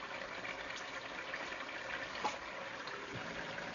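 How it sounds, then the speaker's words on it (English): Water runs in a short, steady gush into a pot of cooking beef peppered steak, heard close and fairly soft. "I'll be adding some water."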